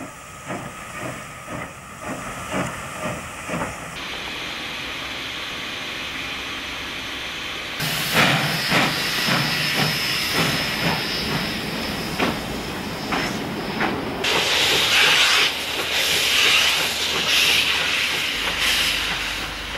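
An OL49 steam locomotive hauling an early-morning passenger train past Wolsztyn Shed in Poland gives off loud, sustained hissing steam, with rhythmic chuffs and rail clatter building as it draws near.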